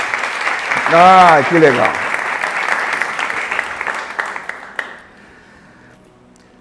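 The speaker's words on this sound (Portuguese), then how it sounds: "A gente pode dar um forte aplauso para esse casal?" Audience applause for a couple during a pastor's church sermon: a dense, loud wash of clapping that holds steady for several seconds, then cuts off sharply, leaving quiet room tone. A voice exclaims briefly near the start.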